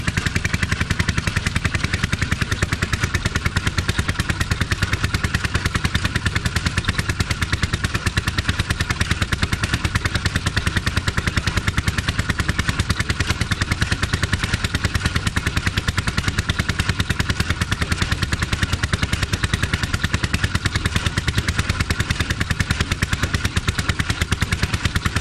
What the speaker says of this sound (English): we got a guy with a John Deere 50